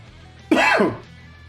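A single short, harsh throat-clearing cough sounds close up over a quiet background hum.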